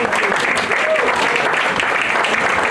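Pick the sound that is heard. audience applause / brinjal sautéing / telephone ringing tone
audience applause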